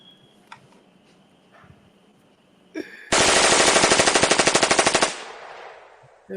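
A rapid burst of gunfire, loud automatic shots in a steady fast rhythm lasting about two seconds, preceded by a few scattered clicks and thumps.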